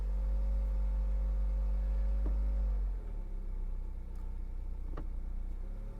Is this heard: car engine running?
yes